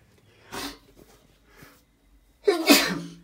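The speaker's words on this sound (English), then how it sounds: "Sneezed." A person sneezes close to the microphone, a short first burst followed by a faint sniff and then a louder, fuller second sneeze, in an otherwise quiet room.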